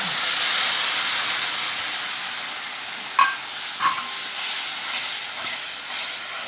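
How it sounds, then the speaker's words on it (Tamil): Tamarind water hits a hot pan of oil for bitter gourd pickle and sizzles loudly with a continuous steamy hiss, broken by a couple of brief clinks of stirring. "புளித்தண்ணி ஊற்றிடணும்."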